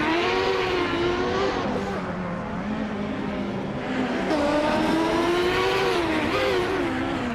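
Evenly matched 1995 IndyCar racers, among them a Lola T9500, roar around the Denver track in a racing game, engines droning and shifting pitch continuously as the cars run close together.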